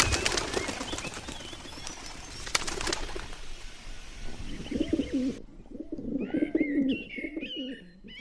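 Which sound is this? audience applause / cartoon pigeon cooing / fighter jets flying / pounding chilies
cartoon pigeon cooing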